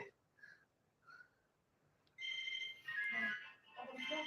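A mobile phone ringtone plays a faint melodic tune for an incoming call. A couple of soft chirps come first, then the fuller ringtone keeps going, fairly quiet and with no talking.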